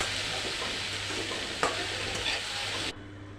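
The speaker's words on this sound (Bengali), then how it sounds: "এই তো মাছ দিয়ে দিয়েছি তেলে।" Fish pieces fry in hot oil in a home kitchen, giving a close, even crackling sizzle with a couple of brief clanks before it cuts off suddenly.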